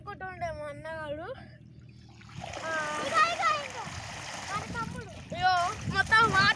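Water splashes and churns as people jump into it in a village, a burst of broadband spray noise rising midway, with children and other voices chattering and calling throughout.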